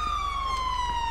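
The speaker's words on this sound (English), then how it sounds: "I don't know which siren is running right now." An ambulance siren in GTA 5 with a paramedic mod, from a Ford F550 ambulance, holds a steady electronic tone that drifts slightly lower, with no voices over it.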